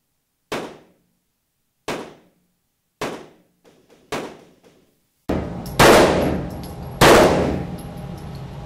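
Gunshots at a shooting range: four sharp, evenly spaced single reports, then three louder, more reverberant shots in quick succession with a ringing tail.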